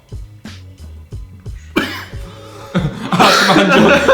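After tasting very hot sauce, a person coughs sharply in quick succession, followed by a louder fit of coughing and spluttering up close.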